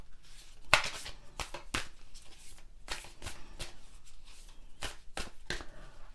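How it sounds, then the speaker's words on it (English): A tarot card deck is shuffled by hand, producing a series of soft, crisp riffling snaps and slaps at an uneven pace, close and quiet with no talk. "I'm going to shuffle this deck 3 cards."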